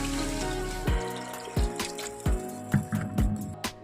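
Water poured into a cooking pan of stirred flattened-rice khichuri, giving a near, wet splash followed by several distinct sloshing bursts at roughly even intervals, with no voices.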